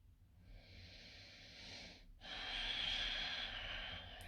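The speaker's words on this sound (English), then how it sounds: "Keep breathing towards your belly." Deep breathing during a hatha yoga class, two long close breaths, a steady airy inhale, a short pause, then a stronger exhale, quiet and alone.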